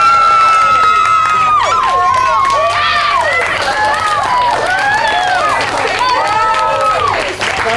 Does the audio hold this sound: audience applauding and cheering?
yes